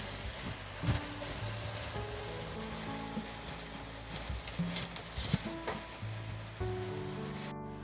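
Finely chopped medium onion frying in a pan, a close, steady sizzle with scattered crackles and occasional clinks of a utensil.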